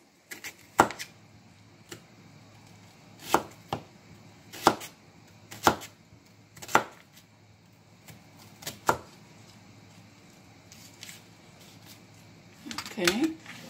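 A knife thinly slicing onions on a cutting board gives sharp, separate chops spaced a second or so apart, close and clear, with a short cluster of quicker cuts at the end.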